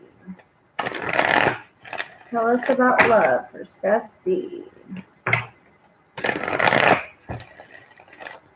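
Tarot cards being shuffled in quick riffling bursts, with a person speaking over and between the shuffles.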